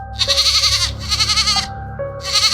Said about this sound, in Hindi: बंधी बकरी जोर जोर से आवाज करने लगी